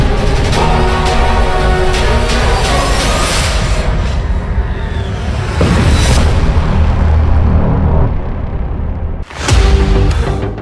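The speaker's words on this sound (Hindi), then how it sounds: "मिसाइल टैंक की तरफ बहुत तेजी से बढ़ती है और इजरायल के मरकावा में बहुत बड़ा धमाका होता है" An anti-tank missile hits a Merkava tank: a loud explosion roars and rumbles on for several seconds, then after a brief hush a second sharp blast bursts out.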